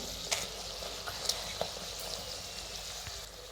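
Puris deep-frying in hot oil, a steady soft sizzle and bubbling with occasional faint clinks, fairly quiet and close.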